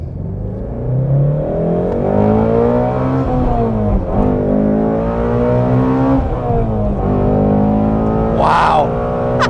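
A 2016 Ford Mustang Shelby GT350R engine revs hard and accelerates, its loud, rising, harmonic roar climbing and dipping through gear changes close up, with brief excited voices over it near the end.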